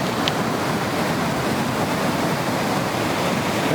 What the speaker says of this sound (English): There's some waves out there.